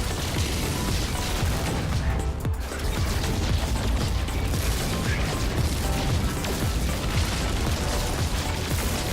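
Ship weapons fire in a No Man's Sky pirate battle, a continuous dense barrage of shots, blasts and mechanical noise that holds loud and steady with no pauses and no talk.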